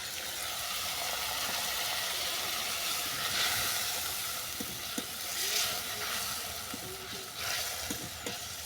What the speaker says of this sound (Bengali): আবার আমি তিলটাকে ভালো করে কষিয়ে নেব